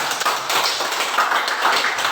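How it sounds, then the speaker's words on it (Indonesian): Schoolchildren clap their hands together at the end of a primary school athletics lesson on walking, running and jumping, a dense, steady burst of applause lasting about two seconds with no voices over it. "Untuk itu tepuk tangan buat kita semuanya."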